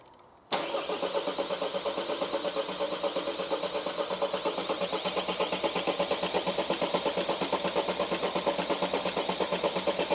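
Starter motor of a 2020 Vauxhall Combo cranks continuously with a fast, even pulsing churn that never catches, loud and close, running on without voices throughout.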